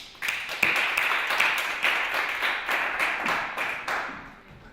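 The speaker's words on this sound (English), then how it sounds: "So let's give him a round of applause." Conference audience at a startup summit clapping for a speaker, a brisk wash of many hands that swells at the start and fades toward the end.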